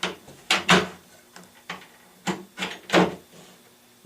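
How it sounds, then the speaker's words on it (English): Cabinet door hinge on a Lazy Susan corner base being slid into its mounting clips, giving several close, sharp wooden clicks and knocks in irregular bursts over about four seconds. "We slide it right into the clips"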